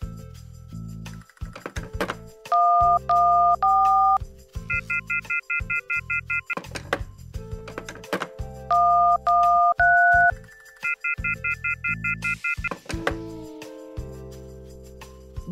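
Telephone keypad tones beep in short stepped runs, then a dead line in the horror video game Novena Diabolos. Several clear dialing sequences are separated by low thuds and ambient drones, with no talking.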